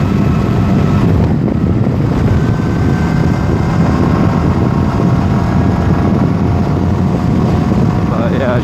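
A Honda Rebel 250cc motorcycle rides along a highway, its engine a steady low drone buried under loud, constant wind rush at the microphone.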